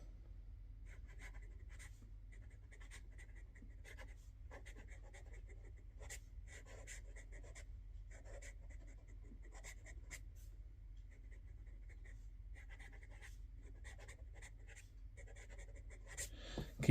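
A Hongdian N10 fountain pen writing quickly on paper makes a faint, continuous scratchy stroke pattern with short pauses between bursts, close and quiet over a low background hum.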